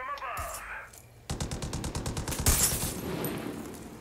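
Rapid automatic gunfire in the video game Far Cry 5, a steady close burst of shots in a fast rhythm, ending in a louder bang and a noisy tail.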